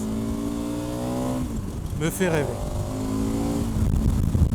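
A KTM 1290 Super Adventure motorcycle of 160 hp revs up under acceleration, its engine note climbing steadily, then a vehicle whooshes past close by with a sharp swell before the rumble settles again. Someone speaks briefly.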